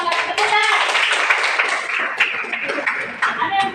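A classroom of students applauds a classmate, with dense, steady clapping from many hands lasting several seconds and a few voices mixed in.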